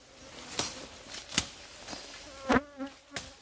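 Honey bees from strong, aggressive colonies buzz around hives at an unmanaged apiary, a continuous insect drone close to the microphone with several individual bees zipping past loudly.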